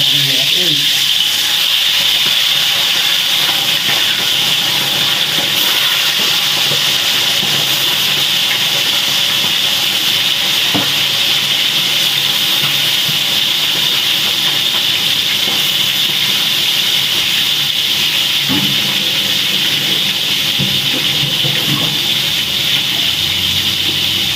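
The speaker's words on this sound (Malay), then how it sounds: "kita goreng ayam" Chicken wings frying in hot oil, a loud, steady, unbroken sizzle and hiss close by.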